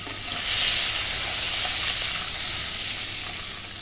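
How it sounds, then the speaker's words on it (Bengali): Boiled duck eggs fry in hot oil with turmeric, giving a loud, dense, unbroken sizzle close by throughout. "ডিমগুলো আমি এবার ভেজে নেব। তার জন্য কড়াইয়ে তেল দিয়ে দিয়েছি"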